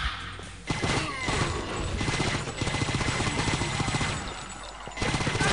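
Enemies firing in the shooter game Painkiller, a dense, continuous stream of rapid gunshots with crashing impacts running nearly the whole time, loud and close, with a brief quieter gap at the start.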